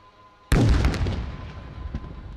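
A drone strike explodes on a target helipad during an Indian Army demonstration, heard as a single sudden distant boom that rolls and decays over about two seconds, with no talking.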